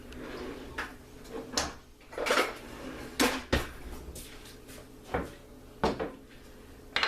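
A spoon scrapes and knocks through a thick homemade dog cookie dough in a bowl, giving irregular clacks and scraping strokes at close range, with no talk.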